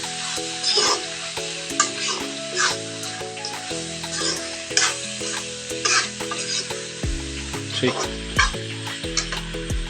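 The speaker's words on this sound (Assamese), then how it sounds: "এয়া আলু দি দিছোঁ অলপ ভজাৰ পাছত। লৰাই দিছোঁ।" Potatoes frying in a pan after salting, with a loud close sizzle and repeated scraping and clattering strokes of a spoon stirring against the pan throughout.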